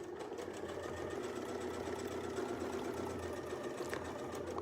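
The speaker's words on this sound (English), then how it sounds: "I'm going to sew all the way across." A domestic sewing machine stitches steadily across a quilt in a feathered crosshatch pattern, its close, even motor whir running unbroken throughout without any talk.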